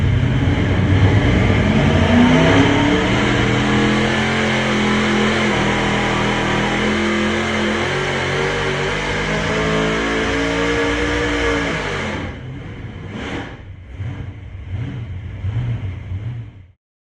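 A racing engine running way rich with no timing on a dyno roars loud and sustained for about twelve seconds, then cuts off into a few sharp blips and sputters before stopping.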